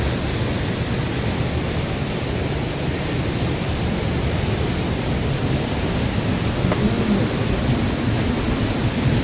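A strong waterfall after rain gives a loud, constant roar of rushing water that stays steady and unbroken throughout, with no voices.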